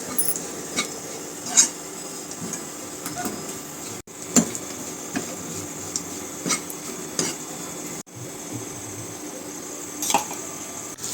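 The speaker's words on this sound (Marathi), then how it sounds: "या ड्रायफ्रूटमध्ये आपल्याला हे किसलेलं खोबरंही गुलाबी रंगावर छान असं भाजून घ्यायचं आहे" Dry fruits and grated coconut are stirred and roasted in a pan with a metal spoon, giving repeated scraping clinks and taps against the pan at an uneven rhythm, close and fairly quiet.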